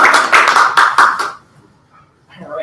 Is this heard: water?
no